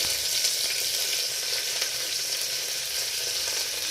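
Curry leaves sizzle in hot coconut oil inside a pressure cooker, a loud continuous hiss and spatter heard close up with no talking.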